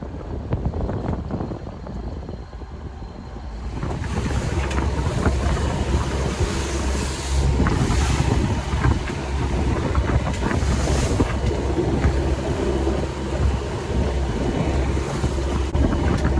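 Gusting storm wind roars across the microphone while sea waves wash and splash around a boat, swelling louder after a few seconds and staying rough.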